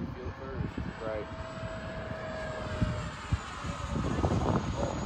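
An E-flite SU-30 RC model jet flying over Utah gives a steady, moderately loud engine whine, with people talking over it and light wind noise.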